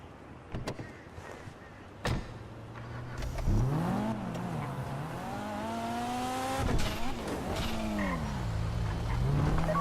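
Car engine in GTA V Online revving and shifting through rising and falling gear sweeps, with a door thump and mechanical clicks early on, driving steadily and fairly loud throughout.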